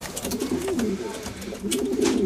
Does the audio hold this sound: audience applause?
no